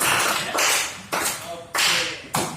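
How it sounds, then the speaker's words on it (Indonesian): Classroom applause for a child, broadband clapping bursts arriving in several waves of a few claps each, fairly loud and close, with a voice faintly under it. "tepuk tangan dulu untuk anak kita ya"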